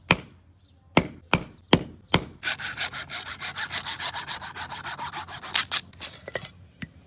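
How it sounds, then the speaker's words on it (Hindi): A hand saw cuts the extra wood off the sides of a stick being shaped into a hammer handle: a few sharp knocks, then a steady run of rhythmic back-and-forth sawing strokes, close and fairly loud, with no talking. "लकड़ी के अगल बगल के एक्स्ट्रा पार्ट को काट दिया"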